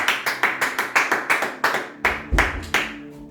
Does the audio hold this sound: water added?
no